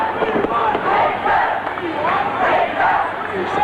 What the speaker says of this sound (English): There's the crowd beginning to chant for the 6 again.